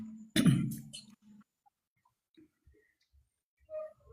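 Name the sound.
person coughing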